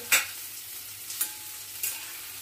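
Potatoes fry in a pan, a faint continuous sizzle punctuated by three distinct clacks of the stirring spoon about a second apart, close by and alone without speech.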